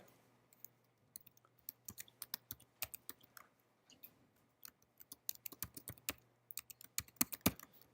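Programming code typed on a computer keyboard in a quiet room: irregular bursts of crisp key clicks, close and clear, with brief pauses between runs and faint hum beneath.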